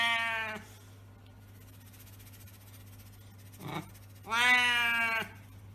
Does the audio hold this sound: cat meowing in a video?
yes